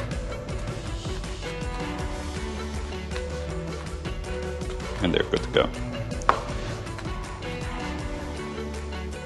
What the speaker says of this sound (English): Just rough chop on these garlic.